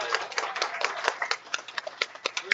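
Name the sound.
audience applause for cooking competitors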